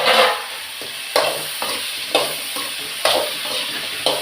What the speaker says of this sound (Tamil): இப்போ நான் வந்து இந்த எண்ணெயிலே கத்திரிக்காயை போட்டு வதக்குறேன்